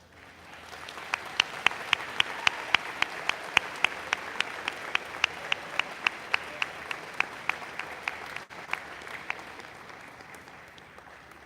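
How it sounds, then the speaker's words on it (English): An audience at a school prize day ceremony claps steadily for several seconds, with a few sharp individual claps standing out over the crowd, before the applause fades away. "let's have one more round of applause for our council heads for 25-26"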